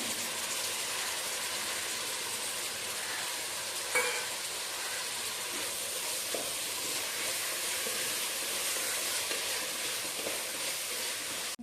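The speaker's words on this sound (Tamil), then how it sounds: "மூணு பெரிய தக்காளி இந்த மாதிரி கட் பண்ணி வச்சுருக்கேன் இதை இதில் ஆட் பண்ணிக்கலாம்" Three large chopped tomatoes sautéing with softened onions in a pan for fish biryani, a steady close sizzle and hiss with no pauses, a few faint clinks of a utensil over it, and no talking.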